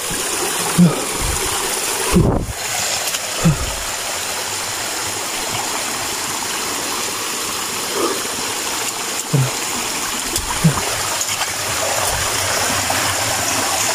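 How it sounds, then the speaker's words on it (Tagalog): A strong stream rushes steadily and loudly close by, a constant roar of water with a few brief thumps and knocks. "Lakas ng daloy ng tubig."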